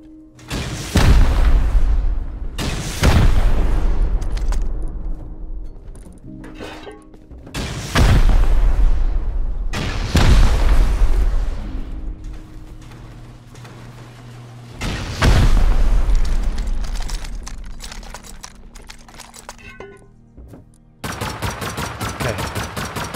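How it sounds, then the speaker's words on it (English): Rocket explosions in the survival game Rust: five loud, heavy blasts spaced a few seconds apart, each a sharp boom trailing into a long rumbling decay, followed by a noisier stretch at the end. "They're actually using all their rockets on this shit."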